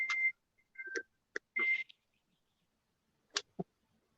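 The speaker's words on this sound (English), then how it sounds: "that's my timer." A kitchen timer goes off with a few short, sharp electronic beeps in quick bursts, close and alone in an otherwise quiet room.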